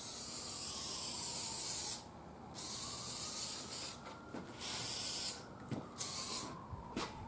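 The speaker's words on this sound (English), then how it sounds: "we're just going to go ahead and lacquer them up. I'm using urethane lacquer on them," Clear urethane lacquer sprays from a can onto the parts of a 1930s Zenith table radio, with a steady close hiss in several long bursts broken by brief pauses.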